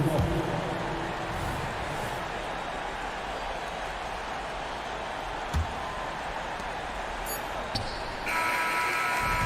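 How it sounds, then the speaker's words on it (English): A 24-second shot clock buzzer in a Grizzlies basketball game sounds near the end as a sustained tone over a low arena rumble, following a few brief sharp knocks. "they turn over the 24-second buzzer, signaling the shot clock violation"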